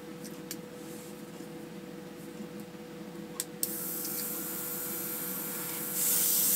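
Chrome spray paint hisses from a can in two bursts, the second louder, over a steady background hum, with a few small clicks and knocks before the first spray.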